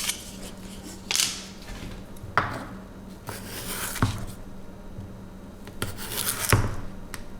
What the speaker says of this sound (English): So what it says to cut the potatoes into 1/2-inch rounds.